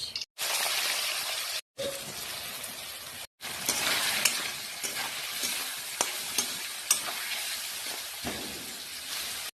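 Bitter gourd sizzles loudly in hot oil in a pan, a close, steady frying hiss broken by a few short gaps, with occasional spatula clicks and pops as it is stirred.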